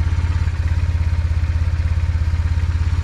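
BMW motorcycle engine idling after starting, a steady close rhythmic mechanical chug with a fast regular pulse throughout, no voices.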